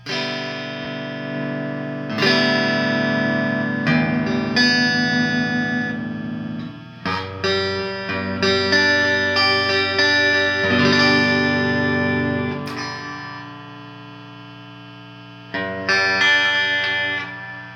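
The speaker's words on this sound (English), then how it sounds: "I don't know if I can demonstrate some distorted tones." G&L Legacy USA electric guitar played with distortion, ringing out in sustained chords and bursts of notes with brief pauses between phrases, loud and close with no talking.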